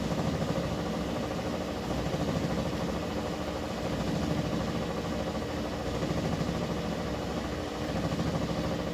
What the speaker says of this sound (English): Okay, we're on the final spin. It's in a high speed spin.